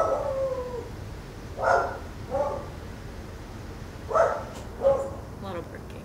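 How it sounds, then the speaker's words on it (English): Dogs bark in short harmonic bursts, two pairs a couple of seconds apart, after a drawn-out howl at the start, over a steady background hiss. "A lot of barking."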